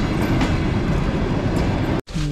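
A Kazakhstan Railways long-distance train rumbles past at a station, a loud, steady roar of wheels and carriages with faint rhythmic clatter, briefly interrupted near the end.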